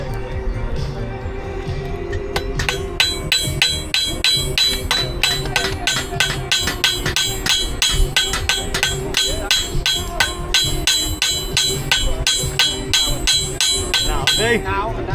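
A blacksmith hammers hot metal at a heritage day demonstration while forging a hook, with rapid, steady ringing strikes on the anvil continuing throughout, loud and close, with some voices in the background.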